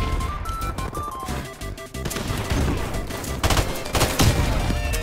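Rapid gunfire from semi-automatic weapons in Modern Warfare Remastered pops in dense bursts amid game explosions and crashes, loud and continuous for a few seconds.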